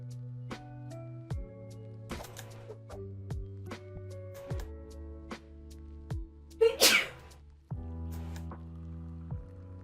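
One sharp, close sneeze bursts out over steady, melodic theme-park management game music, standing out loudly for a moment before the music carries on.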